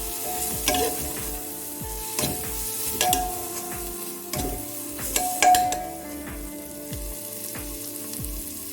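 A spoon stirs mint and coriander leaves into egg biryani in a pressure cooker, with repeated scraping strokes and soft clinks against the metal over a low sizzle, close and without talk.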